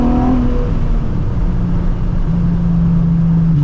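A Viper Red Nissan 350z cruises through a street cut-through, its engine humming in a loud, steady drone that climbs gently in pitch as it accelerates, with no voices over it.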